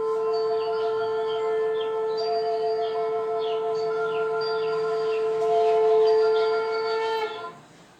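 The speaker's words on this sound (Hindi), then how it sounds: "शंख को बजा के शुभ काम को किया जाता है।" A long, steady blast from a conch shell with a strong, sustained tone and bright overtones, holding for several seconds before fading out at the end.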